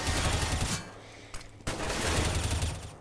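Dense rattling gunfire in a Counter-Strike esports match, a continuous burst of rapid shots, a brief lull with a couple of single cracks, then steady automatic fire resuming, loud and close.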